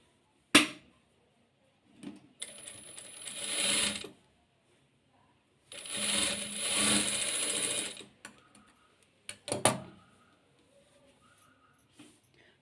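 A sewing machine stitches a top for wearing over jeans, in two runs of steady mechanical whirring with short taps and clicks between, close by and alone.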